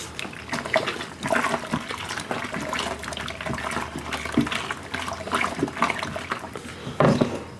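A thickening corn moonshine mash is stirred in a large pot, giving steady close sloshing and swishing of liquid with small splashes, and nobody speaks.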